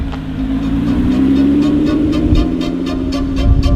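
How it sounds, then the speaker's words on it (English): Lotus sports car engine running steadily with a strong, race-car-like drone and a low rumble, loud and close, without speech. "It sounds so much more race car like than the other cars."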